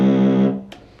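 A Casio CZ-1000 synthesizer playing its wave 5 patch: a single sustained, harmonically rich tone that holds steady for about half a second, then drops away into a faint decaying tail, with a soft click near the end.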